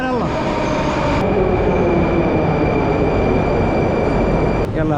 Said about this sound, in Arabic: يلا يا اخوان نركب المترو هذا